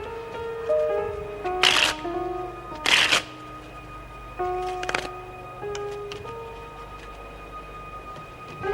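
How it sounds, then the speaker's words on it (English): A deck of playing cards is shuffled in a few short, crisp riffling bursts, with pauses and sustained background music between them and no talk. "I think I should be the one to shuffle"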